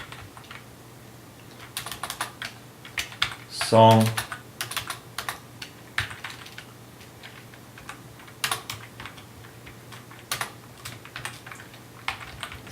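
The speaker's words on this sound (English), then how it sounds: "how I do this is I write this line of code" Code being typed on a computer keyboard, with scattered clusters of close key clicks and taps in an irregular rhythm, plus one louder thump near the start, over a faint steady hum.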